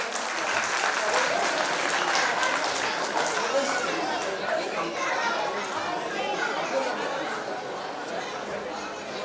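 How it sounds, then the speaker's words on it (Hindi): An audience at a school annual function applauds to welcome a teacher, with sustained, steady clapping from a large crowd and children's chatter and voices mixed in throughout. "ममता मनोज विश्वकर्मा मैम का स्वागत जोरदार तालियों से करें।"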